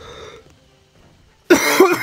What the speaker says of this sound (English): Not a good time for a coughing fit either.